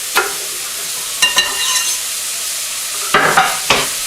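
Celery and garlic sizzle steadily in a hot pan, close and clear, while a utensil scrapes and stirs in a few brief bursts. No voices.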